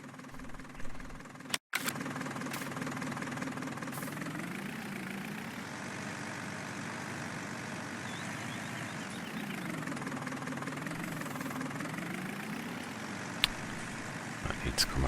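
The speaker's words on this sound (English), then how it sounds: "And we'll test it with the tractor." A tractor engine in Farming Simulator 19, on a farm map, drones steadily at a low idle-like pitch for the whole stretch, with a short break near the start and a voice talking over it.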